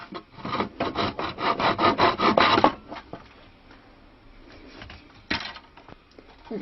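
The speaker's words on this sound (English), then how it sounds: "now we should be able to place our saw very carefully in that groove." A hand saw cuts a groove in a wooden stick dulcimer with about a dozen quick, rhythmic rasping strokes, close and clear, then falls quiet before one last short stroke.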